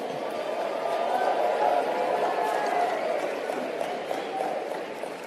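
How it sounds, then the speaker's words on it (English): A seminar audience at a motivational talk applauds themselves, a dense, steady wash of clapping that holds evenly throughout with a faint murmur of voices mixed in. "Give yourselves a round of applause"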